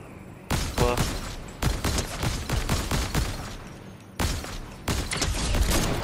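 Rapid bursts of automatic gunfire in the video game Fortnite, loud and close, coming in several dense volleys separated by short pauses.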